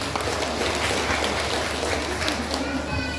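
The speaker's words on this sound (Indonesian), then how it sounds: "Berikan tepuk tangan untuk Tuhan." A church congregation applauding steadily, a dense wash of clapping hands that holds at an even level throughout.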